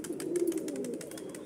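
Pigeons give soft, low, continuous cooing close by, with faint light tapping and fluttering in the background.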